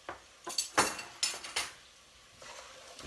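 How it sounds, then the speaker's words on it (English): A utensil stirs mushroom soup ingredients in a pot, making a handful of close metallic scrapes and clinks in an uneven rhythm that fade into a softer swish. "Mixing all that around"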